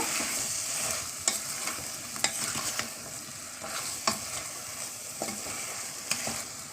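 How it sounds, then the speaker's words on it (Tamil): Vegetables for bread brinji rice sautéing in a pan, a steady sizzle broken by periodic spatula scrapes and clacks as they are stirred, close and fairly quiet with no talking. "சேர்த்து நல்லா வதக்கி விட்டு இந்த மாதிரி நல்லா கிளறி விட்டுருங்க."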